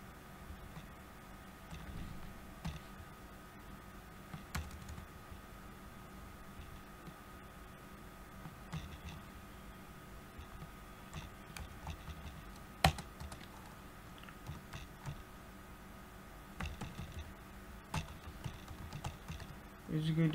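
Typing code on a computer keyboard, soft scattered key clicks in an irregular rhythm at low level throughout, with quiet talking in the background.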